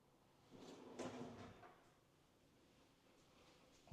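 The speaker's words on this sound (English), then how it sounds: "Let's go ahead and open up some of these drawers for you." Kitchen drawers in a luxury Texas home slide open with a soft thud and rumble, a couple of muffled movements in a quiet room, followed by a sharper knock at the very end.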